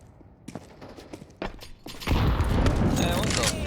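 A grenade blast in a first-person shooter: a few sharp, scattered gunshots and thumps, then a loud sustained explosion that swells and lingers to the end.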